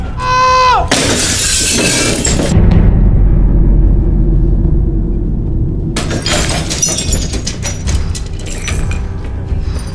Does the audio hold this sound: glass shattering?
yes